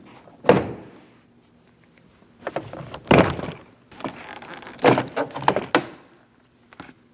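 A series of plastic clicks, pops and thunks as a rear door trim panel of a 2003-2007 Cadillac CTS is pried with a trim tool and lifted loose, with scraping in between, close by.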